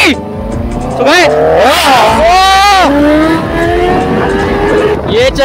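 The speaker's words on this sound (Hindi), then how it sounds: "सबसे आगे चल रही है CBR और भाई यहाँ तक इसकी साउंड आ रही है एकदम यार खतरनाक तरीके से" A Honda CBR motorcycle with a loud aftermarket exhaust revs hard, its sharp engine pitch rising and falling through several bursts before settling into a sustained nearby drone, with someone talking over it.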